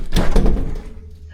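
A house front door fitted with a security entry sensor swings open with a loud thud and rattle, close by, then fades out.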